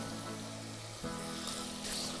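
Goose meat frying in a pan gives a low, steady sizzle and crackle close by, with a faint hum underneath that shifts slightly partway through.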